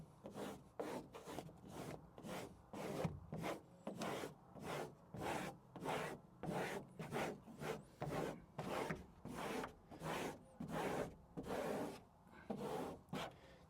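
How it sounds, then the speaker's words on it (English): Squeegee rubbing over XPel protection film on a Tesla Cybertruck, a steady series of roughly thirty quick, close scraping strokes in a regular back-and-forth rhythm with no talking. "And then grab your squeegee,"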